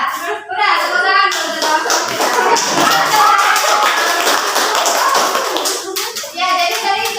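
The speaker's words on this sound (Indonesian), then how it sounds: "tepuk tangan" A classroom of children breaks into hand clapping after a voice speaks briefly, the claps crowding together into a lively, uneven patter for several seconds before a voice returns at the end.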